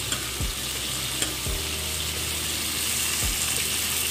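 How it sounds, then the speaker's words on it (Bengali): Prawns frying in a pan for a jackfruit seed and prawn curry, a continuous loud sizzle and hiss with three sharp spatula scrapes spaced across it. "চিংড়ি মাছগুলো আমি মিডিয়াম করে ভাজবো, খুব একটা কড়া করবে না।"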